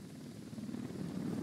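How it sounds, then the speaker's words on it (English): In Ghost Recon Wildlands, a helicopter gives a steady, low, droning rotor rumble with a faint pulsing beat, moderately loud and continuous, with no speech. "We'll need that chopper."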